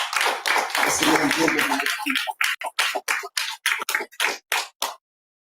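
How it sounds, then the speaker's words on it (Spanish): A church congregation applauds during a Sunday service, starting with a dense burst of clapping over voices, then thinning into about a dozen distinct, evenly spaced claps before falling silent. "Denle un aplauso."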